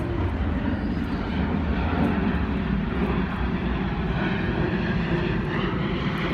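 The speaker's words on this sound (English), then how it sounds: "and there's an airplane." An airplane flies overhead, a steady loud broadband roar of its engine that holds constant for several seconds with no voices.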